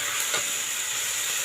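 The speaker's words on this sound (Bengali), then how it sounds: "অনেকটা ভাজা ভাজা হয়ে এসছে" Chicken frying in a pan gives a loud, steady sizzle with a broad hiss that never lets up, close to the pan and with no voices over it.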